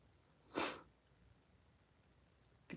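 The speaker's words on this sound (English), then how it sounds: "sorry for the sniffles." A single short, sharp sniffle through the nose is heard close up in a quiet room, followed by another one starting at the very end, with no talking.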